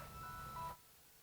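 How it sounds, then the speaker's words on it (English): A phone ringtone goes off during a scientific lecture at a Nobel lecture event: a brief electronic tonal melody with steady pitched notes for under a second, then cutting off into quiet room tone. "Nice ringtone, I like it."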